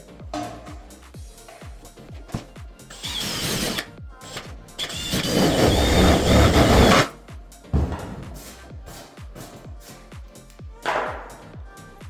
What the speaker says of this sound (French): je vais procéder maintenant à la mesure exacte et au perçage diamètre 10 mm pour permettre le passage du câble